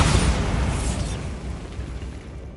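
The Bombarda blasting spell from the Hogwarts Legacy game goes off as a single broad boom, a loud rumbling burst that fades away over about two seconds.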